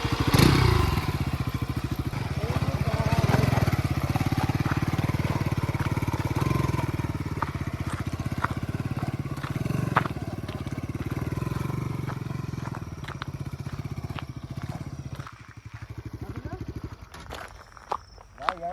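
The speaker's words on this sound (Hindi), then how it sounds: "न्यू बाइक का ऑफरोडिंग टेस्ट हो गया एक तरीके से" A motorcycle engine drones steadily as the bike rides over rough ground, with thumps and rattles, then the engine fades near the end.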